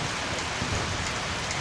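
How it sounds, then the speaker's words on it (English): Steady rain pours down in a dense, even hiss with no clear break, close and continuous for the whole stretch; no distinct thunderclap stands out. "The rain, the thunder every now and then."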